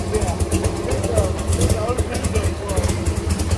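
A car engine with a brand-new engine, running a little rich, idles with a low, steady rumble, close by, with people talking over it.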